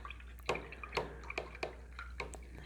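A paintbrush is rinsed in a cup of water after acrylic painting, giving a quiet series of light clinks and drippy splashes roughly every half second, close by with no talk.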